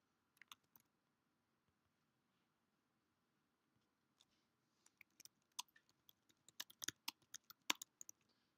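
Sparse clicks of a computer keyboard, a few keystrokes at first, then a quiet gap, then faster irregular bursts of typing near the end, soft and close.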